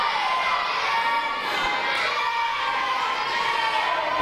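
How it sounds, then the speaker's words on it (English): Wrestling crowd at a W3L women's championship show jeers a wrestler with a steady, mid-distance roar of shouts and boos that holds throughout. "This crowd totally getting on Mackey's case."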